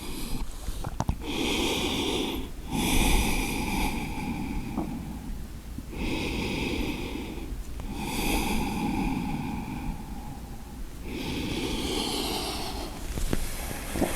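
Deep, slow breathing during a yoga session, with long airy inhales and exhales repeating in steady cycles, each breath several seconds long, close and fairly loud, with no speech.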